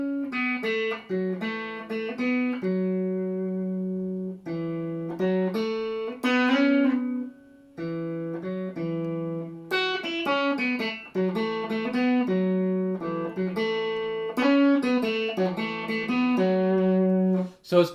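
Guitar slowly picks a lick, with hammer-ons and ringing open strings in separate phrases divided by short pauses, close and clear with no speech.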